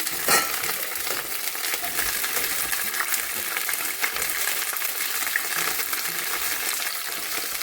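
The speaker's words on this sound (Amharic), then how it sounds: "ቀስ እያለን እንደዚህ እንጠብሰዋለን።" Green beans frying in olive oil in a pan, a continuous bright sizzle with soft scraping stirs and an occasional tap, close and steady throughout.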